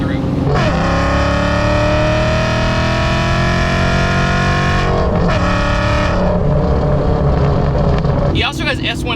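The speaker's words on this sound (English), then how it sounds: "That supercharger just in the background the whole time is just amazing." A supercharged 1999-2004 Ford Mustang with Terminator Cobra internals runs loud and close, its engine and supercharger whine rising and falling through several revs in a continuous roar.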